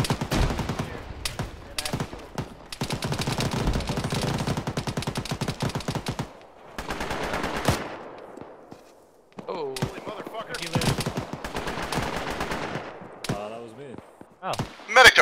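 Rapid bursts of gunfire from a military video game battle, dense automatic volleys and single shots crackling in waves with brief lulls, while players talk over the shooting.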